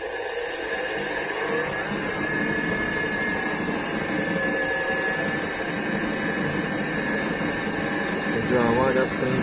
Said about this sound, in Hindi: जो आवाज़ आप सुन रहे हैं वो मोटर का आवाज़ है,